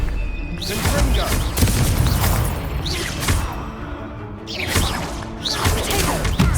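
Confringo blasting spell explosions in a Harry Potter video game, a dense run of booms, crashes and whooshes in quick succession, loud and busy throughout.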